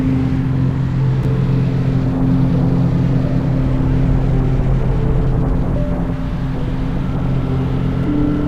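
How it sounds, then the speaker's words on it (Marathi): A constant, loud roar of street traffic with engines humming continuously nearby, busy and unbroken throughout. "गाड्यांचा आवाज लोकांची गडबड"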